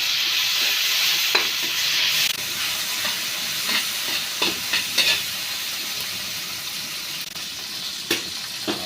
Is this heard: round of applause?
no